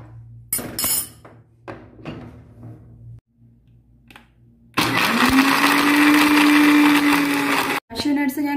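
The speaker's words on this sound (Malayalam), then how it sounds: "ഇനി നമുക്ക് ഇതൊരു മിക്സിയുടെ ജാറിലിട്ട് ഒന്ന് ഗ്രൈൻഡ് ചെയ്തെടുക്കാം" A mixer grinder whirs at high speed as it grinds soaked cashew nuts in the jar, a loud steady motor roar for about three seconds after some light clinks and taps of handling, then a short second burst.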